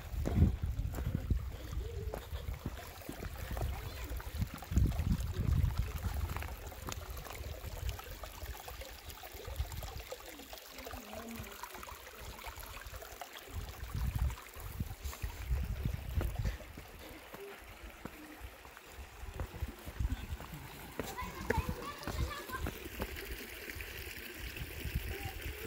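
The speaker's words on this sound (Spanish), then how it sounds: "Oh, aquí está el agua." Water flowing in a canyon stream, a soft, steady rushing and trickling that stays faint and continuous, with rustling and outdoor wind around it.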